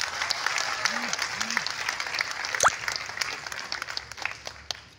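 A crowd at a rural community event handing out support to entrepreneurs claps steadily at moderate distance, and a short whistle rises briefly through the middle of the applause.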